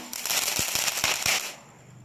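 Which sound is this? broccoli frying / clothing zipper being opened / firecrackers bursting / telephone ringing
firecrackers bursting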